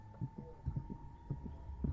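Game heartbeat effect in a horror game: a steady pair of low, muffled thumps repeating at a moderate pace over a faint constant hum.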